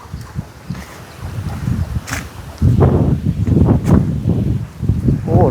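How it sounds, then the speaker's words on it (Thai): Gusty wind from an approaching storm buffets the microphone and rustles leaves outdoors, loud and uneven rushes throughout. "โอ้ลมแท้นี่พายุเข้าได้นี่"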